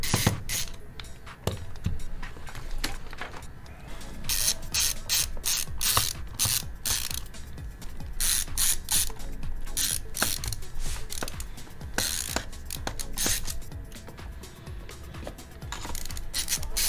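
Small screwdriver working screws out of an old laptop during a hard drive swap, giving steady ratcheting clicks and scraping metal turns up close, repeated throughout without talk.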